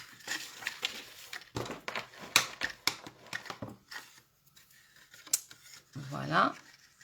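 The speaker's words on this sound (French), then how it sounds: "Alors, là, je vais donc former mes plis." Paper is creased and folded by hand for a pop-up box, with crisp close crackles and snapping folds scattered under French speech, followed by a brief rustle near the end.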